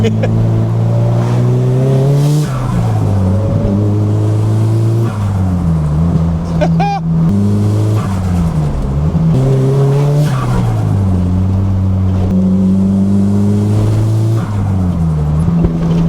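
Nissan Silvia S15 and R34 GTR on a mountain drive, engine droning loud and steady with repeated revving rises, tyre squeal, and scattered exhaust pops and backfires under occasional talk.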